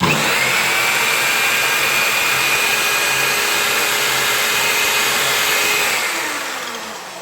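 A GTM HM9085 miter saw motor whines at a steady high pitch, loud and close, then begins winding down near the end.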